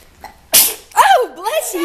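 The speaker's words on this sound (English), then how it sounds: "You were sneezing." A young child gives a sharp, sudden sneeze, followed by a brief high voice reacting right after.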